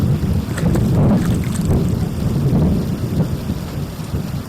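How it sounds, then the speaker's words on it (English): Steady heavy rain pours in the medieval video game Kingdom Come Deliverance 2, with low rumbling thunder rolling underneath, a loud continuous wash without talk. "this rain is crazy."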